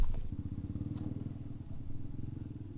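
Off-road motorcycle engine during basic off-road riding training, chugging at low revs with a steady rapid throbbing pulse that swells slightly partway through, fairly quiet and with no speech.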